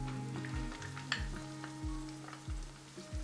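Chopped onion hits a hot pan for a Jordanian tomato stew, galayet bandora, setting off a steady close sizzle and fry, with several soft stirring knocks recurring every half second or so throughout.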